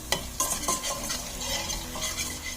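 Garlic sautéing in oil for kalyana vatha kuzhambu, a steady close sizzle broken by several sharp scrapes and clinks of a spoon stirring against the pan, with no voices.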